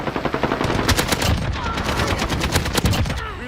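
Suppressed AK rifle firing in Call of Duty, heard as rapid bursts of muffled gunshots that repeat steadily and loudly for the whole stretch with no talking.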